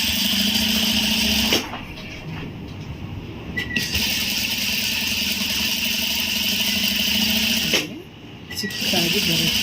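A sewing machine stitches in a steady mechanical whir, running in long continuous bursts with brief pauses between them, close and fairly loud.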